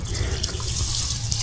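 Water in a jackfruit farm's watering system gushes and splashes continuously and loudly at close range, with no other sounds.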